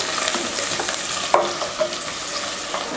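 Ground masala is stirred and sautéed in a hot pan, producing a loud, dense, continuous sizzle with faint scraping strokes running through it.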